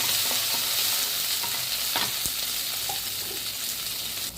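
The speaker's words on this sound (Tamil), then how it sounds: "வெங்காயம் நல்லா வதக்கிக்கணும் நல்லா வதங்கணும்" Onions sauté with urad dal in a pan, producing a loud, continuous sizzle with occasional stirring scrapes. The sound is close and steady throughout, with no voices.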